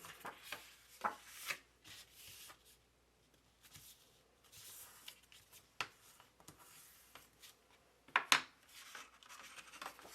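A folded paper piece of a Photoplay photo folio is rubbed down by hand: soft, close scraping strokes in uneven bursts, quiet overall, with a couple of sharper rustles near the end.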